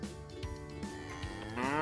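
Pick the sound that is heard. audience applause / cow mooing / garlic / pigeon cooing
cow mooing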